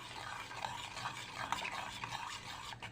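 Melted butter with a teaspoon each of salt and sugar is stirred and whisked in a pot for choux pastry dough, a soft continuous scraping and faint sizzle, close and steady.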